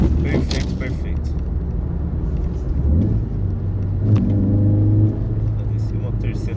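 A Ford Focus fitted with two throttle bodies cruising in fourth gear at about 2,200 RPM and 65 km/h, a steady low engine drone and road rumble inside the car while someone talks over it.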